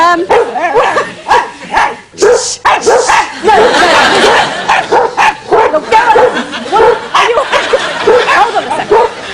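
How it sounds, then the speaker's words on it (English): Several dogs bark, yip and whimper loudly together in a television studio, a close, overlapping chorus of excited cries with brief pauses, and voices are mixed in among them. "Like a dog chorus, this isn't it, really?"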